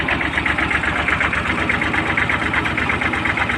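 A Kubota L3408 tractor fitted with a separate-system lift beam for cassava, its engine running loud and close with a steady knocking throb, revving as the lift raises and lowers, no voices.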